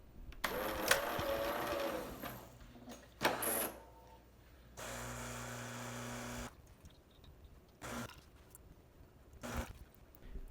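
A Jura Impressa coffee machine works through its cleaning cycle, giving bursts of mechanical whirring, clicking and pump hum that start and stop several times, with quiet gaps between, close by and moderately loud.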